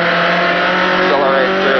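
A Trans Am Datsun B sedan race car runs close and loud, its engine droning steadily as it brakes for a right-hand corner, with a voice talking over the engine noise.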